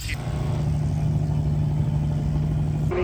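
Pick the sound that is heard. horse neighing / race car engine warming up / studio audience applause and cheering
race car engine warming up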